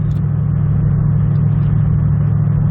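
A Toyota Tundra 4.6L V8 with a muffler delete and Y-pipe custom exhaust rumbles steadily at low revs, a loud, close, deep drone that holds even throughout.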